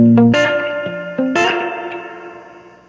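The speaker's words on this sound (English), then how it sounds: "So that's still reverb all the way up." Electric guitar notes from the bridge pickup of an offset Telecaster with a jazz body, played through a Fender Vaporizer amp with reverb and tone turned fully up. A few plucked notes and a struck chord ring out loud and decay slowly into a wash.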